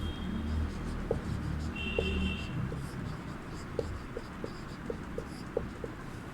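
Chalk or marker strokes on a classroom board in a Sanskrit lesson, a series of short scratchy taps and scrapes spaced irregularly over steady low room noise, with no voice heard.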